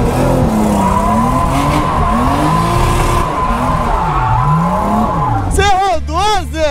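A car drifts with long, wavering tire squeals over a steady engine drone, loud and close. A brief high warbling sweep comes near the end.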